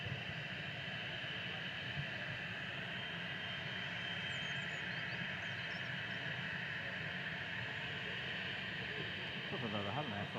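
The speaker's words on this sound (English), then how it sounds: "Air France heading back to Paris Charles de Gaulle now. This is an E190 FHBLF with flight 1669." An Air France Embraer E190 airliner taxis at Manchester Airport with a steady, distant jet engine drone that holds evenly throughout, mixed with broad outdoor rumble and hiss.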